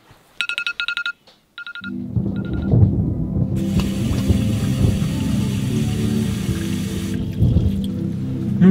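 Water pours steadily into a big drinking glass, a broad continuous splashing rush lasting several seconds after a few brief electronic beeps at the start.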